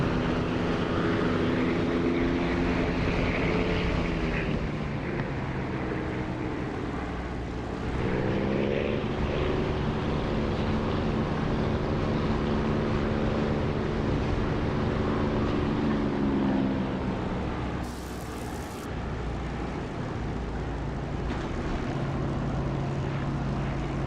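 A propeller aircraft engine in the DCS flight simulator game drones continuously during a landing attempt with no prop pitch control, its harmonic pitch rising and falling as power changes over a steady rushing background.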